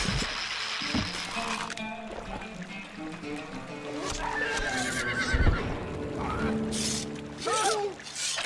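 In the strategy game Stronghold Crusader, a horse whinnies several times over clip-clopping hooves, with faint game voices and ambient effects in the background.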